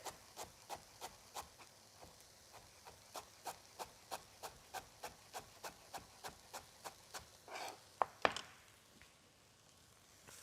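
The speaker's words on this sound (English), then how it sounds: "I'm going to slice my coriander stems into little fine bits" A knife slices coriander stems on a cutting board into fine bits, a steady run of crisp, evenly spaced taps that comes close and clear with no talking, followed by a few louder knocks near the end.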